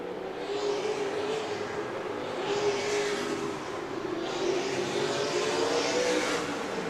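Pro late model race cars roaring around a racetrack, a dense continuous engine drone that swells and fades as the cars pass, loud and steady with no talk over it.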